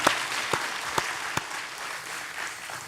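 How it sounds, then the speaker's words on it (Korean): Steady applause from a church congregation, with several sharp individual claps standing out near the start, holding at a moderate, even level throughout. "영광의 박수를 하나님께 드리겠습니다"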